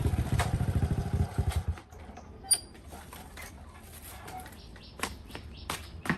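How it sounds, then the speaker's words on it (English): A motorcycle engine putters nearby with rapid pulsing, then cuts off; afterward faint clatter and bird chirps fill the quiet. "the sound of her dad's motorcycle reached the gate"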